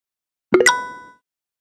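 A lockout/tagout device snaps onto a gas valve in a VR confined-space industrial safety training game: a quick double click followed by a bright, ringing tonal tail that fades within about half a second, heard alone.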